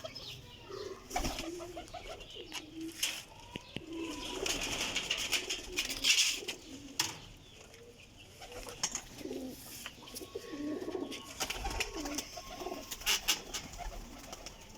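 Pigeons coo softly and repeatedly nearby, with occasional wing flutters and rustling in the background.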